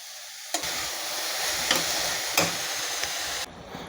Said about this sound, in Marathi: पालक घातल्यानंतर पालक चांगला मिक्स करून घ्यायचा आहे